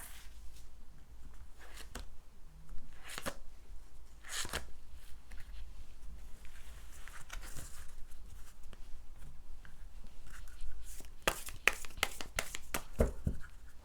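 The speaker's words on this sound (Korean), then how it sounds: "호로스코프 벨린 카드 4장 뽑고요." Horoscope tarot cards are handled and drawn, giving soft close slides and taps, then a quick run of crisp riffling flicks near the end, over a low steady hum, with no talking.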